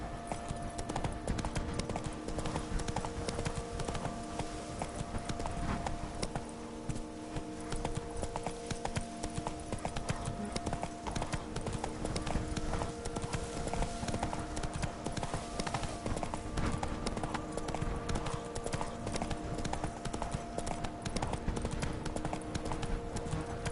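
Horse hooves clip-clop steadily throughout a ride in the video game Witcher 3, set in Toussaint, a constant dense gallop rhythm over a continuous game soundscape, loud and close with no pauses.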